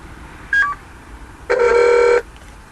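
Motorola StarTAC flip phone dialing a call: a brief keypad beep, then a longer clear multi-tone dialing burst, close and alone with no talking.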